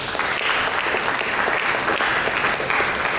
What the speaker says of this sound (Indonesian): Berikan tepuk tangan kepada Yesus.